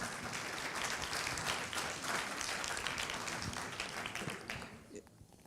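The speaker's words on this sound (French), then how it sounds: "On peut l'applaudir." An audience at a public talk on economic transition applauds steadily and continuously, a dense, somewhat distant wash of clapping that holds for several seconds before thinning out.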